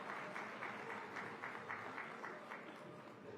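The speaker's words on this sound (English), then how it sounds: "A huge round of applause, please," A round of applause for dignitaries at the inauguration of Mumbai Climate Week, steady dense clapping from an audience in a hall, moderately loud and continuous throughout with no speech over it.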